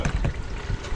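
Liquid, apparently red soup, pours and trickles into a pan in a short, close burst of splashy gurgling.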